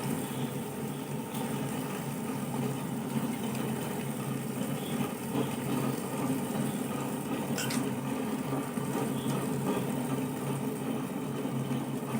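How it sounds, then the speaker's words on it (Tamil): A wet grinder churns soaked urad dal for idli batter, a steady low motor drone with a faint watery swish, continuous and moderately quiet throughout. "இனி நம்ம கிரைண்டரில் போட்டு அரைக்கலாம்"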